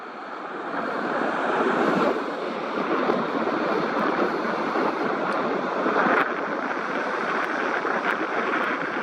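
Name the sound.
ocean waves at the beach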